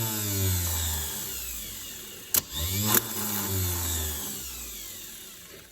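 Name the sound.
jet boat starter motor cranking on test bench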